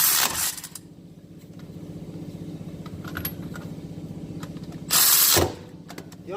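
A power tool runs down the axle bolts on a 2017 Jeep JK with axle problems, giving a steady mechanical ratcheting whir. Loud bursts of the tool hit at the start and again near the end, with faint clinks between them.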